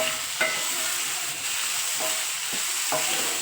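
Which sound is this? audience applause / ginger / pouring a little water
ginger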